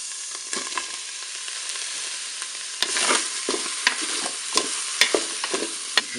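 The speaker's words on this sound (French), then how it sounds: "je vais faire revenir le tofu. Je vais maintenant ajouter les champignons de Paris" Tofu and button mushrooms frying in a Cookeo pot, a soft steady sizzle broken by several sharp stirring scrapes and clicks of a utensil.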